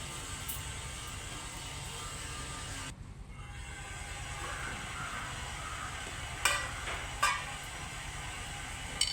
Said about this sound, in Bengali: এখন ভালোভাবে মিশিয়ে দেবো সব কিছু।